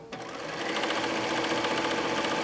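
A sewing machine stitches steadily around the edge of a handmade fabric book, its close, continuous motor whir and rapid needle clatter running without pause.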